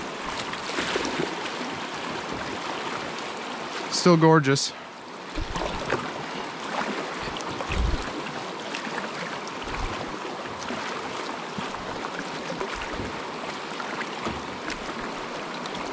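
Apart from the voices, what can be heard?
water flowing in the Petawawa river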